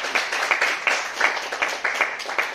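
Applause from an audience at an International Yoga Day event, with rhythmic, fairly even clapping that pulses steadily and is loud and close, with no clear talk over it.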